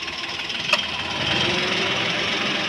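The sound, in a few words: 2016 Daihatsu Ayla engine idling with hood open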